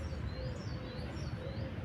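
Wild birds sing faintly outdoors, thin high chirps and whistles drifting in over a steady low rumble of open-air background noise.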